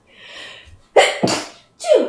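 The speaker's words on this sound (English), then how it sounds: "I have to sneeze." A soft breath in, then a sharp, loud sneeze burst followed by a second explosive sneeze, close by with no talking.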